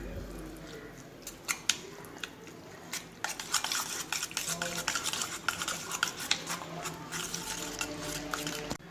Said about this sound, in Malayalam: നല്ലോണം ഒന്ന് മിക്സ് ചെയ്യാം